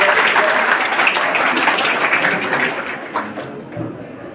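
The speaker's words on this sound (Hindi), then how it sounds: "आप सभी लोग उनका तालियों से सम्मान करिए।" Audience applause at a school award ceremony during a lamp-lighting for the chief minister, a burst of many hands clapping that stays strong and then gradually thins and fades toward the end.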